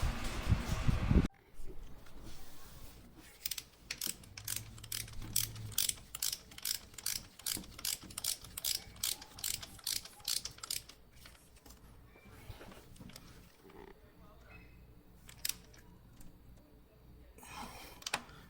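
A ratchet wrench tightens a bolt during a Toyota timing belt and water pump job, a rapid series of close, crisp clicking strokes in short bursts, then quieter fiddling.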